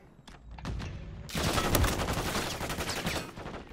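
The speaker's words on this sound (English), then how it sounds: "I got a submachine gun." Submachine gun fire in a video game shooter, a few sharp isolated shots at first, then a loud, dense sustained burst of rapid automatic fire that continues to the end.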